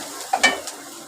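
Onion and grated ingredients roasting over low heat in a pan for whole masoor khichdi, a soft sizzle with a couple of brief stirring scrapes.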